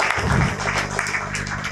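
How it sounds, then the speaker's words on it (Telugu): An audience applauds at a youth event as a speaker is welcomed onto the stage. The clapping forms a steady, dense wash that stays close and loud for the whole stretch. "గట్టిగా చప్పట్లు"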